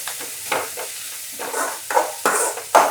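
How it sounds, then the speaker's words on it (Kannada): Two green chillies sizzle in hot oil for baby corn manchurian, with a spoon scraping and stirring the pan in short bursts, close and clear. "ಹಾಗೆ ನಾವಿಲ್ಲಿ 2 ಹಸಿಮೆಣಸನ್ನು ತಗೊಂಡಿದ್ದೇವೆ. ಇದನ್ನು ಸಹ ಹಾಗೆ ಸ್ವಲ್ಪ ಫ್ರೈ ಮಾಡ್ಕೊಳ್ಳೋಣ"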